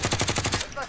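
Automatic gunfire in Call of Duty Warzone, a quick loud burst of about seven evenly spaced shots in rapid rhythm, close and punchy, ending abruptly.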